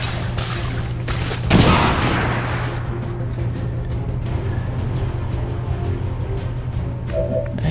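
A grenade goes off in a video game as a single booming blast near the start, followed by a rumbling tail that decays into a steady low game hum.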